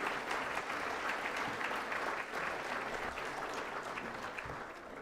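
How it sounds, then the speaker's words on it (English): Sustained audience applause fills a hall at the 20th Annual Attitude of Gratitude event in 2021, a dense, steady clapping that holds for the whole stretch and tapers only slightly at the end. "let's give her a round of applause"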